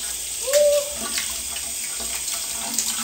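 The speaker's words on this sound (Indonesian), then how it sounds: "Kayak air pancuran gini." Water splashes steadily from a spout or tap at a workplace where laundry hangs to dry, a continuous hissing flow with a faint squeak near the start and no talk.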